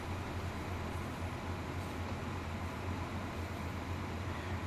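A small, underpowered railcar on the Mittenwaldbahn slowing down, heard as a steady, loud rumble and hum of wheels and motor with no breaks.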